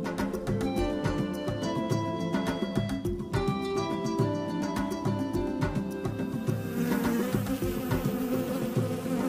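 A bee buzzes close by in a children's church program's giraffe race segment, a continuous busy hum over a bright musical backing that runs steadily for several seconds.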